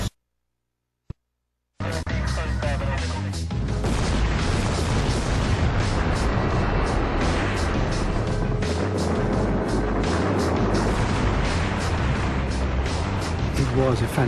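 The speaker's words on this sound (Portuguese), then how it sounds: "A explosão lembrou fogos de artifício." After a brief silence and a sharp pop, a huge dynamite explosion booms and roars on at the Itaipu hydroelectric dam construction, a long sustained rumble of blast and debris.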